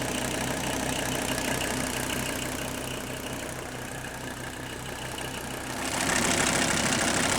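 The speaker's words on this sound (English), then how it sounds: "I'm going to let it sit here and idle for about 10 minutes." An old diesel engine idles steadily and close by, a dense, even rumble with a knocking undertone that swells slightly louder toward the end, with no voices over it.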